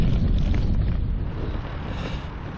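Strong wind blows outdoors near Portchester, buffeting the microphone in a loud, continuous, rumbling roar with no pauses.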